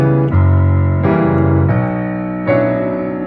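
Piano playing a 2-5-1 chord progression for a remix, sustained full chords changing about four times, ringing and close with no talking.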